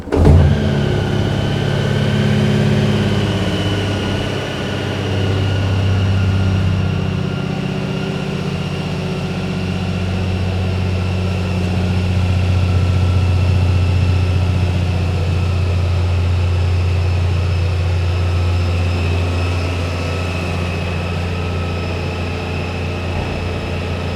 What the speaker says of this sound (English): the next step is to start the bike